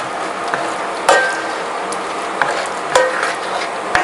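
A spoon stirring seafood marinara sauce in a pan for palabok, soft steady scraping and stirring close by with a few sharp clinks of utensil against the pan and a faint sizzle.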